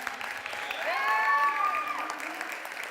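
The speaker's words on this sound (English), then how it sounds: "give a big round of applause to some of our awesome Green Dragons teachers and students" An audience claps and cheers for teachers and students at a school event, a dense wash of applause swelling in the middle, with whoops and whistles rising above it.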